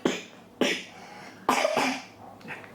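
A child coughs in three separate bursts, each a harsh, close, fairly loud cough with a short gap between them, and no other sound.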